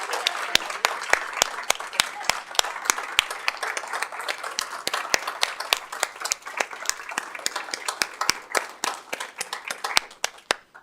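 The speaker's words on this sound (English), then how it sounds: "let's give all of them a round of applause" An audience at a school board public meeting claps in sustained applause, a dense patter of hand claps that continues steadily and thins toward the end.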